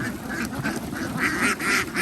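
Many laying ducks on a duck farm quack in a loud, overlapping chorus, the calls coming in repeated nasal bursts close by.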